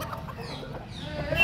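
Chickens cluck at a village poultry market in Kashipur, steady low clucking and fowl noises in a busy, close setting, continuing for the whole short stretch without any speech.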